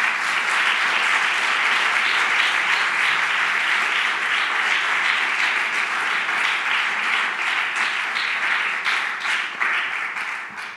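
A church congregation applauds, its dense, sustained clapping filling the room for about eleven seconds before tapering off at the end.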